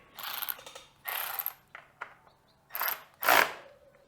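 A ratchet tightening a bolt on a Yamaha YZ250FX dirt bike, several bursts of quick close clicking from the pawl separated by short pauses, loud and without talk.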